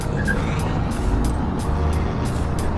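A 72v Revv1 electric motorbike rides along a city street, with a steady close motor and road rumble plus passing traffic, the level staying even across the short stretch.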